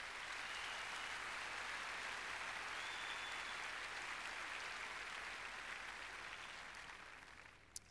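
A large crowd applauds at a 1995 Key Biscayne tennis trophy ceremony, a dense, steady wash of clapping that holds evenly for several seconds before tapering slightly near the end, with no talking.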